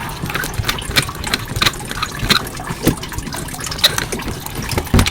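Coolant drains from a car engine in an irregular trickle and spatter, with uneven drips and splashes standing out close by over a quiet background.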